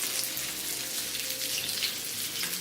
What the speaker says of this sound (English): All I'm gonna do is just pan fry this up a bit